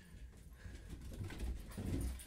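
Several dogs thunder down a staircase indoors, a quick run of dull padding thumps and scrabbling paws building in loudness over a couple of seconds, close by and without talk.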